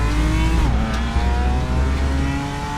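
Race car engine in the RaceRoom racing game, loud and continuous, revving under heavy braking as the pitch drops, then climbing again with a steady droning whine.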